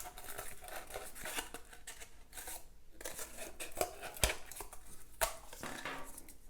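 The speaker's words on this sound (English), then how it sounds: "I will cut some half circles for his eyes" Scissors cutting half circles out of paper for a kids' mask art project, a series of soft snips and crinkles with occasional sharper clicks, close and fairly quiet.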